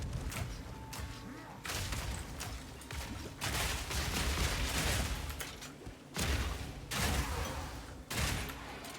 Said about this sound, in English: Love them big explosions, though.